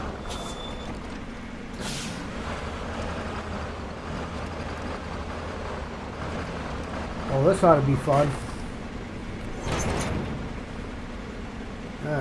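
A truck engine runs in the SnowRunner video game as a low, steady rumble, broken by a couple of sharp air-brake hisses, while someone talks over it.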